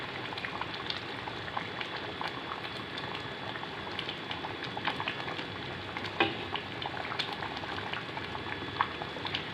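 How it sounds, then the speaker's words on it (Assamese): Taro leaves with fish simmering in a pot produce a soft steady bubbling and burbling, with small pops and an occasional faint clink, heard close and fairly quiet with no talking. "এয়া কচুখিনি উতলি আহিছে"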